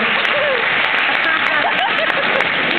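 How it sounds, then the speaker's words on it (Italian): A theatre audience at a comedy show applauds, a loud, continuous wash of clapping heard close up, with voices calling out faintly underneath. "Bello applauso a Giovanni"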